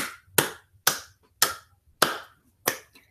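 Six sharp, loud claps at an even, deliberate pace, each with a short ringing decay, from the 1962 Godzilla film, heard alone with no talk.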